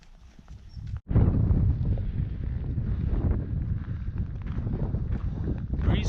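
Steady breeze gusts across a high mountain bowl in the Banff backcountry of the Sawback Range, a broad low rush of wind buffeting the microphone from about one second on, loud and continuous with faint movement beneath.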